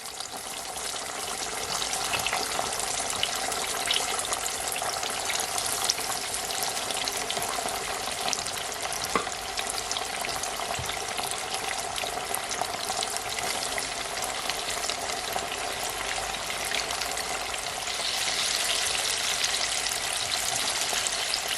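Homemade crispy chicken tenders fry in hot oil, a steady, dense sizzle and crackle running unbroken for the full stretch, moderately loud with no talking over it.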